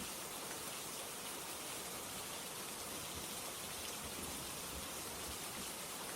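Steady rain falls evenly and continuously, a dense broadband hiss with soft droplet texture and no distinct breaks, moderately quiet and alone with no voices.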